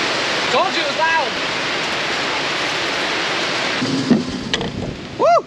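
Heavy rain roars loudly and steadily on a greenhouse roof overhead, a dense hiss with a few short voice sounds breaking through.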